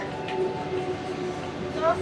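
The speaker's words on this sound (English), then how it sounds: "I'm on the train here in Inca Rail" Inside an Inca Rail passenger train heading to Machu Picchu, a steady low rumble of the moving carriage fills the cabin, with a faint tonal hum running through it.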